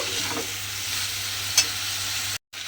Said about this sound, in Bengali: এইভাবে প্রায় 5 মিনিট মতো আমি ডালটাকে আলুর সঙ্গে মিশিয়ে এইভাবে একটু রান্না হতে দেব।